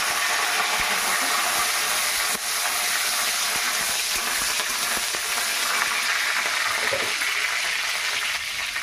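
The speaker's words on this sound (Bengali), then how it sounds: "দেখো মেথি আর সর্ষে আর শুকনো লঙ্কা ফোড়ন দিয়ে দিলাম।" Fenugreek seeds, mustard seeds and dried chillies spluttering in hot mustard oil give a steady, loud hissing sizzle with faint crackles, continuous throughout, with no talking.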